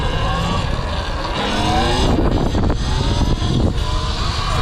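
A motorcycle engine revs hard during a wheelie on a ride in poor weather, a loud, steady roar with rising and falling pitch, heavy wind rush over it and faint voices in the background.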